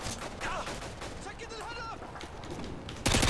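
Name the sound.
gunfire and sniper shots in a video game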